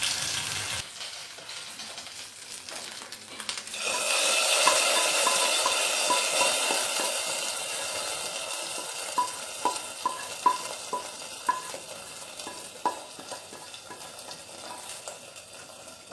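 A hot ghee tempering is poured into ven pongal and stirred: a loud sudden sizzle flares up, then a steady frying hiss continues under repeated scraping and clinking of the spoon against the pot.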